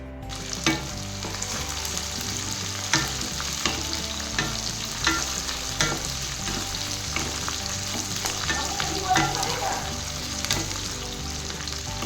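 Peeled onions frying in a pan with whole garam masala, cardamom, cinnamon, cloves and mace, a continuous close sizzle broken by scraping stirs and occasional clinks, with no speech.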